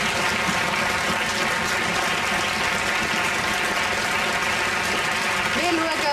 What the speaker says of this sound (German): Trotzdem einen Applaus für unsere Chefin.